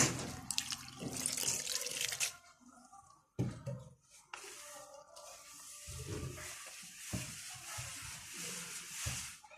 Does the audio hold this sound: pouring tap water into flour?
yes